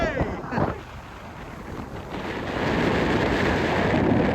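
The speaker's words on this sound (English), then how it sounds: "I'm not gonna lie guys, it's a little bit windy!" Strong, freezing wind at Ashway Rocks in the Peak District buffets the microphone, a rough roaring rush that swells louder toward the end, with no one talking.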